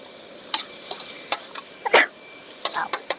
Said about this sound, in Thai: ได้ยินเสียงไหมคะ กับเสียงกระทะแล้วมันก็จะได้ยินเสียงมันแรงขึ้นมาหน่อย